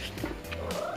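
A nearby cat makes a drawn-out, rising vocal cry with a rough, purring edge, brief and close, with no talking.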